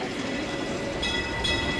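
A train passing nearby at Disney California Adventure, a steady loud rumble of rolling rail cars with faint clicking and a high wheel squeal rising toward the end.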